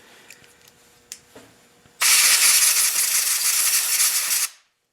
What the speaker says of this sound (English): I'm going to be using compressed air to make sure that there's no debris near the spark plug